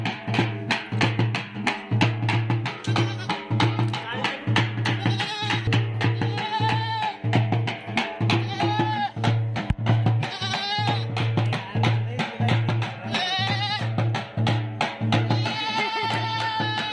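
Goats bleat repeatedly over steady background music with a droning beat, the animal calls rising and falling through the whole stretch, during a puja ritual with water poured on a goat's feet.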